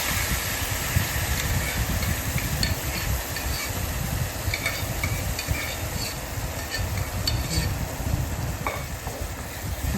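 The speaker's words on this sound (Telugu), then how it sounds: "బాగా కలుపుకోవాలి దగ్గర పడిందాక బాగా కలుపుకుంటూ ఉండాలి" Bottle gourd simmering in milk in a pan, stirred steadily as it thickens, giving a continuous scraping and bubbling sizzle alongside a broad low rumble.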